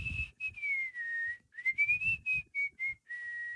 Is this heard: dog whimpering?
no